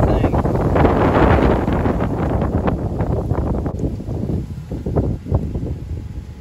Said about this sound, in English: It's freaking windy out here.